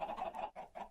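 Chickens in the Minecraft SkyFactory 3 modpack cluck in three short, close bursts that follow one another quickly, with no other sound around them.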